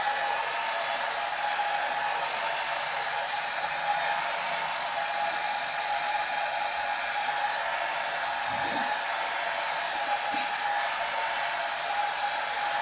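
A hair dryer blows steadily on alcohol inks, a constant broadband whoosh holding for the whole stretch with only slight wavers and no talking.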